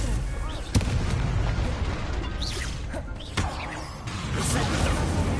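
Incendio fire spells are cast in Hogwarts Legacy, giving whooshing fiery blasts with sharp bursts near the start and middle, over continuous rumbling game combat effects.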